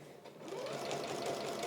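A sewing machine stitches a quilt with free-motion and walking-foot quilting, a steady continuous mechanical whir that rises slightly in speed and stays close and even throughout with no voices.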